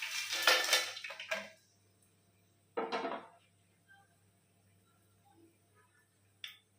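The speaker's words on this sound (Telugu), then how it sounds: "జీడిపప్పు ఇవన్నీ ఇప్పుడు వేస్తున్నాను" Cashews tipped into a pan for mushroom biryani, with a loud clattering rattle of nuts and pan at the start, a second short burst a moment later, then near silence with a faint clink at the end.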